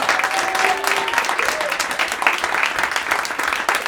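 Sustained applause from a theatre audience at the Théâtre du Garage, given for the two young women who ran the front desk. The clapping is dense, loud and close, with a few voices rising faintly through it.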